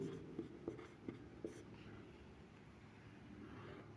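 A pen scratches and taps faintly on paper during a Class 6 decimals math lesson, with a few quick strokes early on before fading into a quiet room hum.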